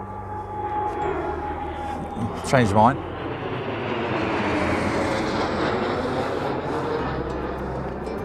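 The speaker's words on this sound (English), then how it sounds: "Okay, a low-flying private jet. I thought it was a military at first" A low-flying private jet passes overhead on a country walking route, a loud broad roar building and holding for several seconds; a person speaks briefly, and a high chirping bird call cuts through midway.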